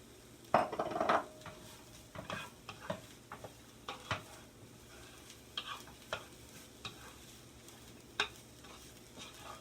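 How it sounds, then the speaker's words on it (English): Green onions for egg rolls cook in a pan with soft frying, scraped and stirred by a utensil in scattered bursts, a louder rattle near the start, then quieter irregular strokes. "we're gonna add our green onions at this time. I'm gonna cook it all together now."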